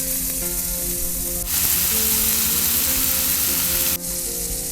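Onion, tomato and green chilli frying in a pot at a forest campsite, a loud continuous close sizzle with stirring scrapes and a burst of stronger hissing midway.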